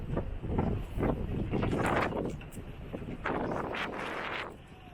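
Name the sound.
strong wind on microphone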